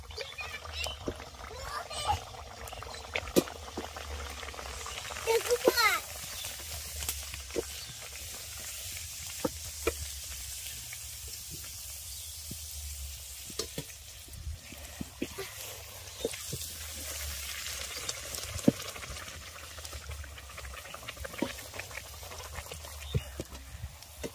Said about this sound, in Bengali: তেল গরম হয়ে গেছে, এবার কচুরিগুলোকে ভেজে নেব।